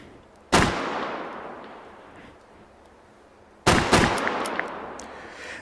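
Two sharp revolver gunshots from Call of Duty: Black Ops, each a loud crack with a long decaying reverberant tail, spaced about three seconds apart with no talking.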